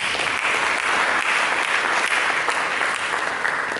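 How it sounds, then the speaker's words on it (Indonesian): Congregation applause fills a church service, steady and dense throughout, with no clear voices above the clapping. "Mari berikan tepuk tangan."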